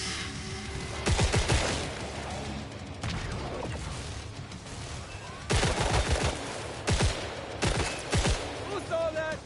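An automated turret fires in Killing Floor 3, loud rapid bursts of gunfire in several separate volleys with quieter gaps of combat noise between them.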